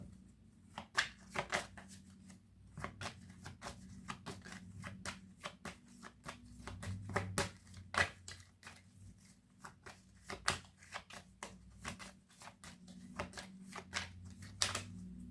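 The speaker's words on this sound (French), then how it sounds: "pour mélanger, tu mélanges, tu vas pas très vite" Tarot cards being shuffled by hand in a steady stream of soft, rapid riffling flicks, close and moderately quiet, with no talking.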